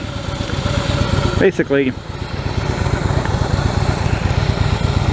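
A 2016 Harley-Davidson Fat Boy S idles close by with a steady, loping low thrum, and someone speaks briefly over it.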